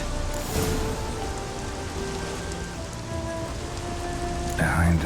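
Steady rain pours down in The Witcher 3 video game, a continuous close hiss of drops hitting surfaces that holds for the whole stretch, with quiet tonal game sounds underneath and no talking.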